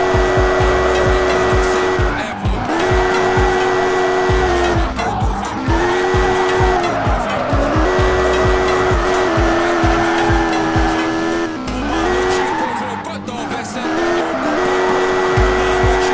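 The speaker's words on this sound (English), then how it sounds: "Let's show you some drifting skills." Drifting in the Car Simulator 2 video game at a shipyard: a loud, continuous engine roar revs up and down with sustained tire squeals and skids, with no talking over it.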